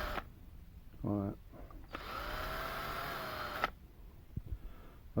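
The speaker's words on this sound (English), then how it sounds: "make sure that those drills are just deep enough so that the rivet heads come off" A small drill drills out rivet heads on a Corgi Bentley Continental die-cast model, running in a steady whine for about two seconds, close and fairly loud, with a short buzzing burst just before it.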